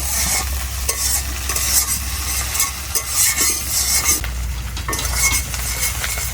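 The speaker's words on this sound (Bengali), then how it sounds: "চিংড়ি মাছটা ভাজা হয়ে গেছে" Prawns frying in a pan, a steady sizzle under repeated scraping and stirring from a metal utensil, with clinks against the pan at close range and no voices.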